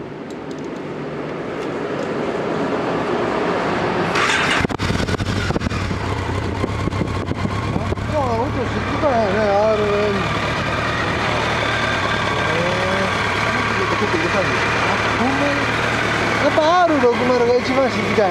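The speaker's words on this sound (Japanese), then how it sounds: "エンジン音聞かせてもらえますか" A BMW K1200/K1300 GT touring motorcycle engine starts and settles into a steady idle, running continuously close by while people talk over it.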